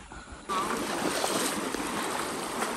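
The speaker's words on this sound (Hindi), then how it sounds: "आवाज़ सुन सकते हैं आप लोग पानी की।" Water rushing loudly from a full village pond, a broad steady roar of flowing water that swells in after a moment and holds constant and close.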